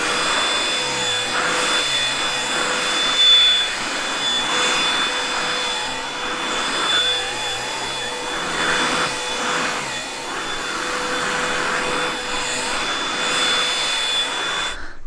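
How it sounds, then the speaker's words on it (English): Vacuum cleaner run directly over German Shepherd dogs' fur, a loud continuous whine and rush heard close, wavering slightly as the nozzle moves, with no speech. "you can also sometimes just vacuum straight from the source"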